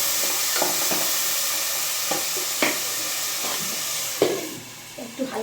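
Lentils for khichuri frying lightly in a pan give a steady, close sizzling hiss, broken by a few soft scrapes and knocks from stirring.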